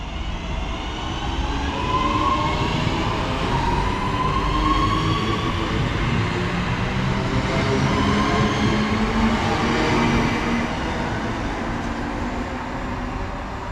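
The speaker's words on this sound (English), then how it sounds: "departing out now is 323228, heading out on the 10:17 service to Manchester Piccadilly" A Class 323 electric multiple unit pulls out of Macclesfield station, its traction motors whining in rising tones over a constant rumble of wheels on rail, loud and near for the whole stretch.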